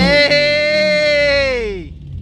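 An Audi B7 RS4 engine revs hard and holds against its 8,000 RPM limiter, giving a loud, steady, slightly wavering high tone up close that then drops away quickly as the throttle is released.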